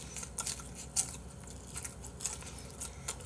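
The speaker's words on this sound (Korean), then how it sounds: "순살 치킨 먹을 때도 봐봐 이게 다 튀김이고 겉이 바삭하잖아" Crispy fried boneless chicken being chewed close to the mic, with a series of irregular crunchy bites and soft squishy mastication sounds at a quiet level, no talking.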